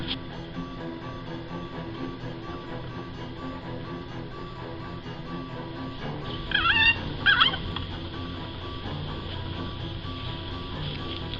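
Homemade redneck turkey call imitating a big gobbler: a steady droning backdrop with two short, loud, raspy gobbling bursts close by near the middle.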